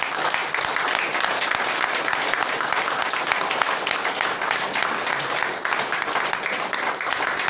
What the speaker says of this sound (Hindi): तो अपने लिए एक बार जोरदार न्यूट्री से दोबारा तालियां बजाएं।